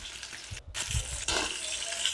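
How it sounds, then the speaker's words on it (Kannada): Chopped tomatoes hit a hot pan for mint chutney, giving a steady sizzling hiss with a brief break and a renewed surge of crackle close by. "3 ಟೊಮೊಟೊ ಕುಯ್ದಿರೋ ಟೊಮೊಟೊ ಹಾಕ್ತಾಯಿದ್ದೀನಿ."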